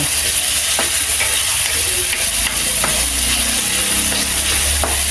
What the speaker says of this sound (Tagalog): Kamatis. Igigisa natin para masarap.